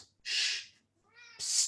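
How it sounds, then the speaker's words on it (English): A pet cat at home gives two short, clear meows close to the microphone, separated by a soft hush. "that's my cat"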